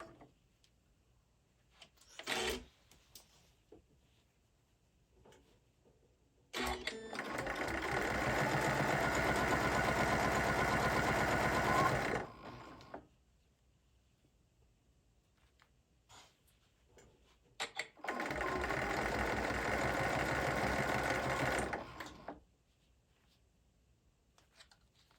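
A sewing machine stitches a zipper bag in two sustained runs of about five seconds each, a close, steady mechanical whir. A few clicks and taps of handling come between the runs, with no talking.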